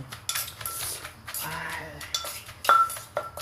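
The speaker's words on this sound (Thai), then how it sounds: "ทีนี้เป็นขั้นตอนของการโขลกครับ" Pounding roasted peanuts with fermented fish in a mortar for a Thai dish: irregular knocks and scraping clinks of pestle against the mortar, fairly close, with brief stirring scrapes between strikes.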